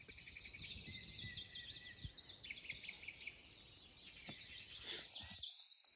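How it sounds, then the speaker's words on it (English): Birds chirp and tweet in a morning backpacking camp, many quick, repeated high calls overlapping one another at a moderate distance, with a brief rustle near the end and no talk. "So you can hear that the birds are all tweet."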